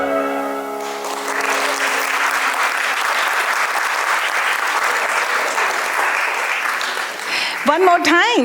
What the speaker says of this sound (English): One more time, clap your hands for such a wonderful dance.